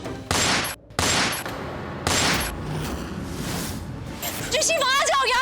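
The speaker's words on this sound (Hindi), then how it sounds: "दोनों तरफ से गोलियां चलती हैं।" Gunfire erupts from both sides in a TV drama scene, several bursts of rapid shots and booms in quick succession with brief gaps, followed by shouting voices over the clamor.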